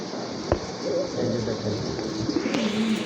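Pigeons at a market selling local and foreign breeds coo softly and repeatedly at close range against a steady background murmur.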